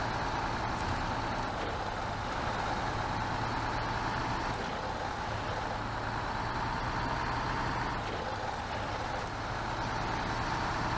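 A MAN logging truck driving in SnowRunner, its engine a dense, constant low rumble with a broad roar throughout and no clear pitch changes or talk.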